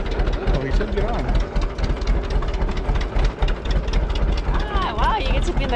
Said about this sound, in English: We're on a tractor.